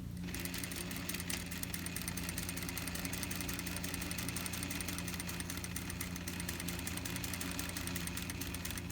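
A sewing machine stitches a tailored placket in a steady, continuous whir with a fine rapid mechanical rattle, running evenly without pause at moderate volume.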